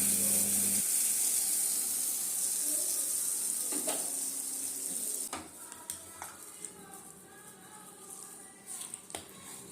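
Tempering is poured into ven pongal, a peppery rice and lentil dish, and stirred in: a brief sizzle at first, then scraping and clinking of a spoon against the pot in irregular strokes, close and moderately loud.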